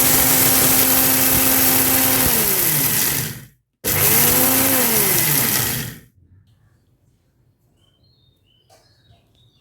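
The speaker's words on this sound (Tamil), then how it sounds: "இப்போ நம்ம ஒரு நூறு கிராம் பருப்பு எடுத்து இதை நல்லா நம்ம பவுட்ரு பண்ணி எடுத்துக்கலாம்" Mixer grinder powdering about a hundred grams of urad dal, a loud high whining motor running steadily for a few seconds, briefly cut, restarted, then switched off into near silence.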